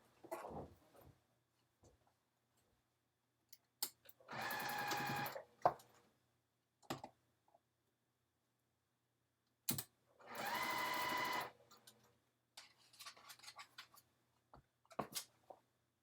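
A sewing machine stitching down gathered fabric in two sustained whirring bursts of a second or so each, separated by quiet handling clicks and small bumps nearby.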